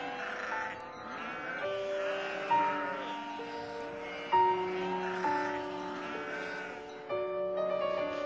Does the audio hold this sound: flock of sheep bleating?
yes